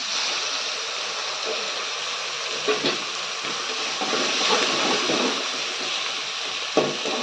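Egg frying in a pan with sautéed capsicum gives a steady, close hiss and sizzle, with a few brief louder crackles over a constant bed of noise.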